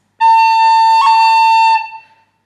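An A pip ornament on bagpipes for the tune Scatter The Mud: a steady, loud pipe tone on A broken midway by a quick flick to another note, then fading out after about two seconds.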